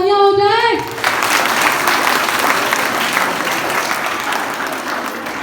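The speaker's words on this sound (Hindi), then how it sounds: "तो एक बार जोरदार तालियां हो जाए।" An audience in a college hall breaks into loud, sustained applause that starts just as a speaker's voice stops and carries on steadily, easing slightly toward the end.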